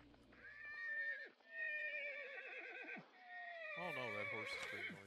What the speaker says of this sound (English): that horse is pretty noisy